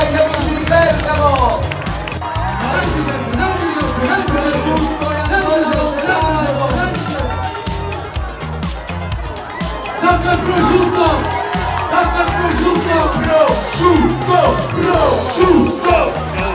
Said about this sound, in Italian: Un applauso agli acrobati della compagna!